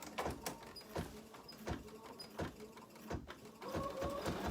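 An embroidery machine stitches out banner and ribbon details, producing a fairly quiet, rhythmic series of soft thumping needle strokes at a steady pace, close by with no talking.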